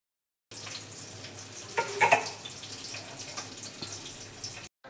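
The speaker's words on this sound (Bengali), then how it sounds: "আর এখানে মাছটাকে ভাজছি।" Fish frying in a home kitchen pan, giving a steady close hiss of sizzling oil with a brief clatter of utensils near the middle.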